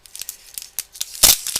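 Double-sided tape is pulled and torn for Christmas card making: a quick series of sharp ripping and crinkling bursts, close and fairly loud, with one stronger tear near the end.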